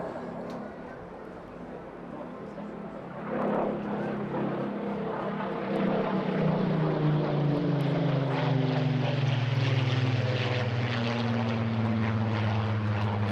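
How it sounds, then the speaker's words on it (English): A Spitfire PR XIX with a Griffon engine makes a flypast at the Eastbourne Airshow, its propeller engine growling loud and steady as it passes, with the pitch sliding downward. "you'll notice a slightly different growl from that particular engine, because this is a Griffon engine"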